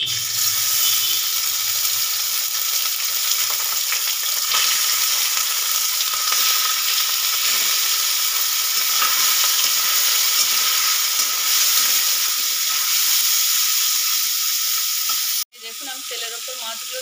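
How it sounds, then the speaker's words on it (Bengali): Mourola fish sizzle in hot oil over a spice tempering, a loud, dense hiss with stirring scrapes, running steadily until it drops off abruptly near the end. "দেখুন, আমি তেলের ওপর মাছগুলো দিয়ে দিয়েছিলাম।"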